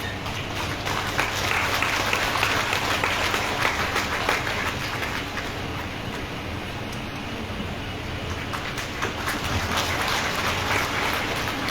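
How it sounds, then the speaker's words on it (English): An audience at an official event launching a medical mobile unit applauds a dignitary, with dense, continuous clapping from many people holding at a steady level for about twelve seconds. "Please give a big round of applause for Shri Purno Chandra Jamatia"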